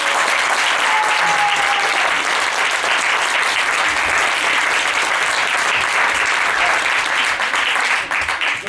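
Loud, dense applause fills a hall after a children's end-of-course theatre show, a continuous wash of many hands clapping that holds steady for several seconds before tapering slightly at the end.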